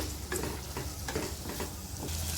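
Sliced onion and curry leaves frying in oil in a pan for tomato rice, a soft, steady sizzle with rhythmic stirring scrapes, quiet and close.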